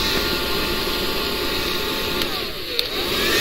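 A handheld blower sends resin across a Dutch pour painting with a loud, steady airy roar and whine that runs continuously, dipping briefly near the end before swelling again.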